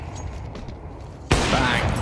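A single loud, sharp AWP sniper rifle shot in Counter-Strike on the Inferno map during a Major match, cracking abruptly out of low game ambience and leaving a bright ringing tail.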